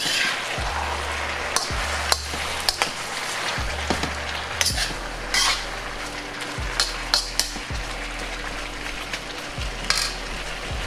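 Chicken lo mein noodles fry and get stirred in sauce in a pan, a constant sizzling hiss punctuated by repeated utensil clanks and scrapes against the metal, with low thumps recurring throughout.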